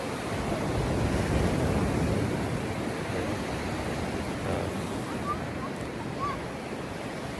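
Pacific Ocean waves washing in on the west coast of Mexico, a continuous broad roar of surf with some wind buffeting the microphone, steady and fairly close, with no voices.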